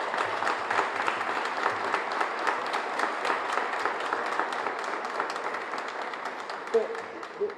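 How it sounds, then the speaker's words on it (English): Audience applause at a portrait unveiling ceremony, a steady wash of many hands clapping for several seconds, moderately loud and even throughout with no talk over it. "I think you deserve a round of applause"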